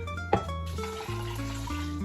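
Water runs and pours steadily into a pot, a continuous splashing stream with a small clunk near the start.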